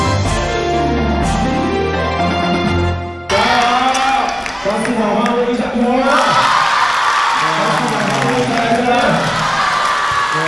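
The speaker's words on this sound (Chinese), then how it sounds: "现场小朋友响起欢呼声" Children cheer and shout at a primary-school basketball shooting event as the mayor tries shots, a loud, dense crowd roar that swells after a brief dip and carries on throughout.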